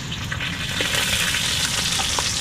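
Onion frying in a pan while cooking freshly caught fish, a steady close sizzle with faint crackles and no talking.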